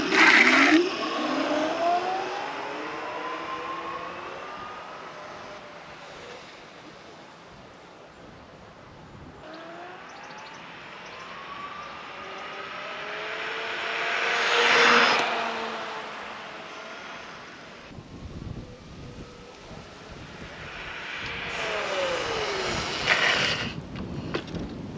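An electric scooter ridden in sport mode at power level 3 accelerates with a rising motor whine, its tone sweeping upward in repeated waves under steady wind rush, moderately loud with no talking.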